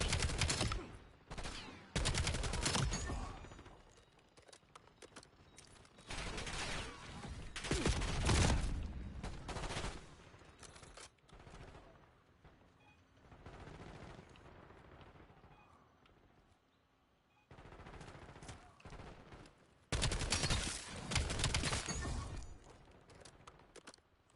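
Rapid bursts from the Mirage gun in Black Ops 7; loud, close clusters of sharp automatic shots, separated by quieter gaps, with a heavy volley near eight seconds and another at about twenty seconds.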